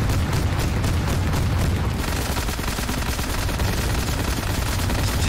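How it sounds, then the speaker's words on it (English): Rapid, dense gunfire in the shooter game Wrath: Aeon of Ruin, loud and continuous bursts merging into a booming roar throughout, with no talking. "I'm just gonna shoot the crap out of you while you can't even shoot me."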